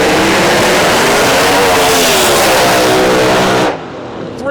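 The Candyman, a Pro Mod drag race car, roars down the far side of the drag strip during qualifying at the US Street Nationals, a loud sustained engine howl climbing in pitch for several seconds before cutting off abruptly.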